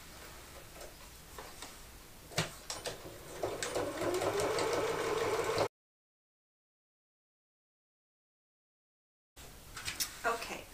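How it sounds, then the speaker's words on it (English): Sewing machine stitching dividing seams across a fabric pocket panel for a tote bag organizer insert, steady rapid motor hum with ticking needle strokes, loud and close, then stopping, with a pause and a few handling clicks after. "I've stitched across the bottom and I've segmented this larger pocket into smaller pockets."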